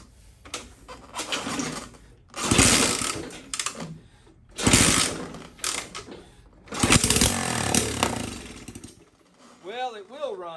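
A cheap CT70 clone minibike engine runs rough and uneven, revving in repeated loud surges with sputtering gaps between them. A voice is briefly heard at the end.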